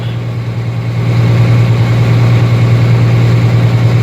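A steady, close idle from the engine of an International Harvester 1586 tractor: a deep, even rumble that gets a bit louder after the first second and then holds without change.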